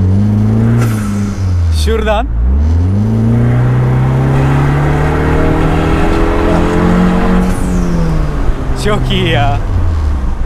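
A Vanderhall Carmel's turbocharged engine revs up through the gears, pitch climbing then dropping at each shift from fourth into fifth, loud and close with brief talk over it.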